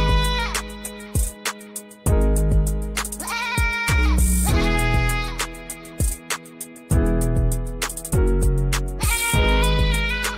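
Goat bleats repeat several times over a loud, rhythmic rap beat with layered musical tones, each bleat short and forward in the mix.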